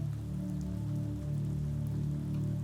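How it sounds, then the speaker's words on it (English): Rain patters softly and steadily on waterproof fabric overhead, making an even, close hiss with a low rumble underneath and no voices. "She hears the twinkling raindrops patter softly on the waterproof fabric above."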